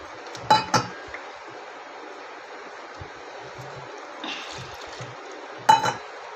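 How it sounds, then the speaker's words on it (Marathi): A few sharp clinks of a spoon against a pot ring out while rice flour is mixed with water and turmeric into a thin batter, with soft scraping between the louder taps. "एक बारका टोप तांदळाचं पीठ टाकते आपण ते पाणी टाकून मिक्स करून घेऊया"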